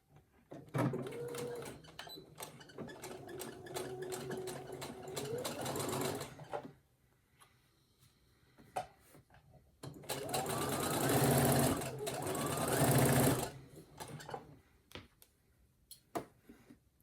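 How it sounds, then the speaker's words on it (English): A Brother SE1900 sewing and embroidery machine stitching a fabric pouch, in two long, fast, whirring runs of stitching separated by a quiet pause, with scattered clicks and ticks between them. "And now I am going to sew along my foot."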